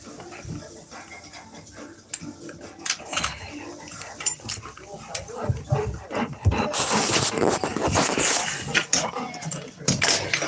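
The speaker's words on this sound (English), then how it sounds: "Freaking dogs." Pet dogs at home, whimpering, panting and scuffling with jangling tags, growing louder and busier toward the end while a person talks intermittently.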